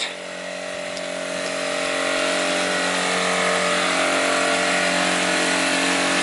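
A small generator runs outdoors in a snowy Canadian winter, giving a loud, steady engine drone with a constant hum that swells slightly and holds without a break.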